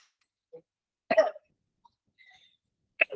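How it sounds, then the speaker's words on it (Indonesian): A person coughs a few times in a quiet room, short sharp bursts near the microphone with a brief pause between them, no talking over it. "Maaf ya, lagi sedikit batuk."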